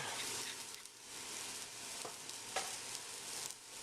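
Onions and garlic sizzle steadily in a hot pan, a continuous bright crackle with a few louder pops and stir-like bursts, close and alone with no voices.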